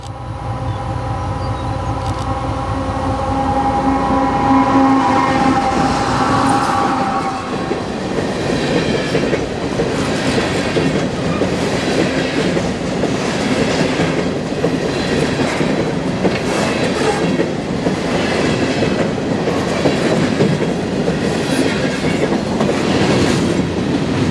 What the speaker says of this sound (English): the long train would cross a long trestle